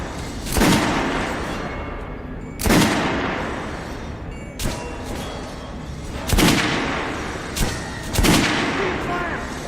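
Kalash assault rifle fire in the video game Metro Last Light, five heavy booming shots spaced about two seconds apart, each ringing out into a long echoing tail.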